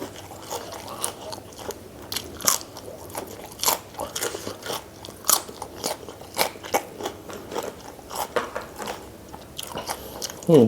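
Crisp fresh vegetables being bitten and chewed close up, eaten alongside coconut-milk rice noodles, a long irregular series of loud crunches and crackly chewing.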